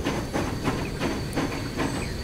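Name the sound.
train moving in the video game Transport Fever 2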